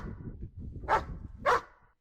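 Two short dog barks about half a second apart, fairly close, over a low rumbling background.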